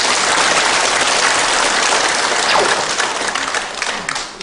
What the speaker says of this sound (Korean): 뜨거운 박수로 청해 주시기 바랍니다.